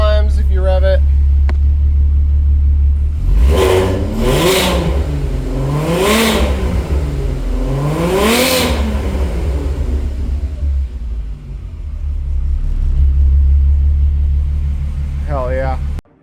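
Car engine on a race build revving hard in repeated rising and falling sweeps over a constant low rumble, loud and close, with a voice speaking briefly at the start and end.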